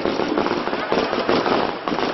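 A garland of firecrackers bursts during a Maha Kumbabishegam ceremony at a Tamil Nadu temple, a dense, loud, continuous crackle of rapid pops that runs without a break.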